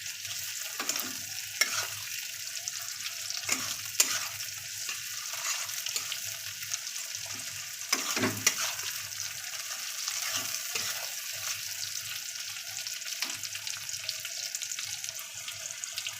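Onion, ginger, garlic and chopped tomato frying together in a pan for fish head cabbage, a steady soft sizzle with occasional scraping stirs and clinks, close and fairly quiet, with no voices.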